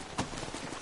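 Horse hooves clip-clop in the video game Red Dead Redemption, a short, faint burst of hoof falls over a steady wash of background noise.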